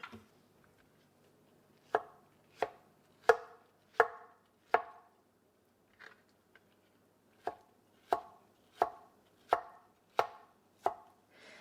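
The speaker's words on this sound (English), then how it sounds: "chopping your peaches into the vinegar and like coating them so that they don't get browned up" Peaches chopped on a cutting board, a series of about a dozen sharp, close knife strikes in two runs separated by a brief pause, loud and alone.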